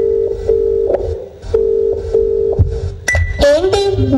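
A phone dials out: a run of short steady keypad tones, several evenly spaced beeps close and clear, followed by a brief burst of higher electronic tones, with no talking.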